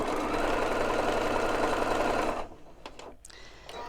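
A sewing machine fitted with twin needles stitches at a fast, even hum for about two seconds, then stops abruptly, leaving a few faint clicks.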